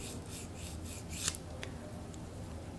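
A nail file rasping across the free edge of a fingernail in quick short strokes, soft and close, with a few brief louder scrapes and no talking.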